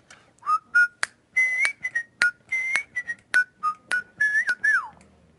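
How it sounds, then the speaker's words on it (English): Someone whistles a lively tune in short, clear notes with brief pauses, ending on a sliding note, loud and close with no talking. "Every chance I get, I show off my whistling skills"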